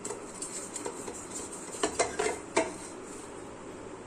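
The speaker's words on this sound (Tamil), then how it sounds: "பாத்திரம்லாம் கழுவி நான் உங்களுக்கு காமிக்கிறேன் பாருங்கள்." Metal pooja vessels being scrubbed and washed by hand, giving soft steady scraping with a few sharp clinks of metal against metal near the middle, close and fairly quiet, with no talking.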